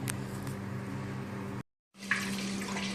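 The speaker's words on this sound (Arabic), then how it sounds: "هلا بلشنا نوضع الحليب بالطنجرة" Milk being poured into a cooking pot for a Syrian milk pudding, a soft continuous liquid stream at moderate distance, cut by a short silent gap before the pouring resumes with a light splash.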